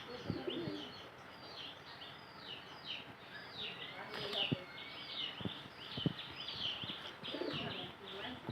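Native pigeons coo in soft, repeated low calls, with faint chirps and brief wing flutters around them, fairly close and steady throughout.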